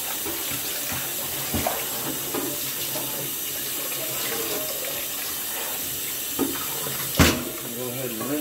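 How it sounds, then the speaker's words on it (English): Tap water running steadily into a sink while a seasoned cast iron pan is rinsed, with a few knocks and clanks of the pan against the basin over the flow. "Go ahead and rinse it off."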